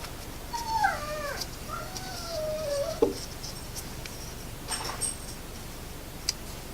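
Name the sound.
dog whining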